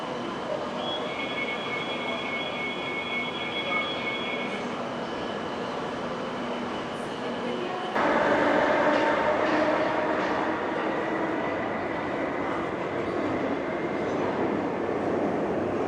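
A Kolkata underground metro train runs through its tunnel, a steady loud rumble with rail noise and a brief high whine early on, growing louder and brighter midway as it rolls toward Kalighat station.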